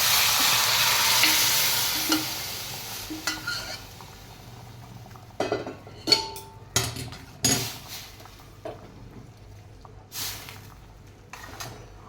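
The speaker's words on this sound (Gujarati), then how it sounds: "આપણી ડુંગળી થઈ ગઈ છે પિંક કલરની. આપણે એની અંદર નાખી દઈશું હવે દાળ ને શાક." Dal and vegetables drop into a pan of pink-fried onions for Kathiyawadi-style dhansak, starting with a loud hiss of frying that eases into a quieter sizzle, with clinks and scrapes as a spoon stirs the pot.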